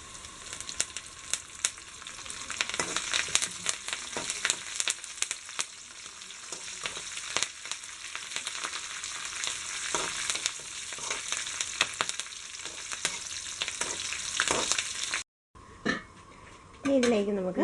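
Curry leaves frying in oil in a pan for a Kerala ripe mango curry, a steady close crackling sizzle with sharp pops throughout, briefly cut off near the end before resuming.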